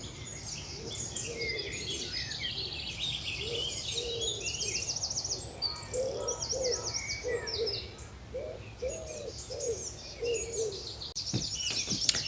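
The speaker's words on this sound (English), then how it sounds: "Just listen to the birds." Several birds sing and chirp at a distance, high twittering mixed with low, repeated cooing calls over a quiet outdoor background.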